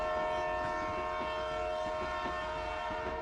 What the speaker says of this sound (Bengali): ধীরে ধীরে স্টেশনে ঢুকতে শুরু করলো এক পুরনো ট্রেন